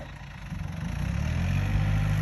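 A heavy Yanmar tractor engine idles with a steady low rumble that swells slightly louder, close by and alone.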